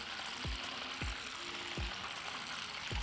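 Butter bubbling and browning in a pan while making sourdough oatmeal creme pies, a quiet steady sizzle with a few soft low thumps spaced through it.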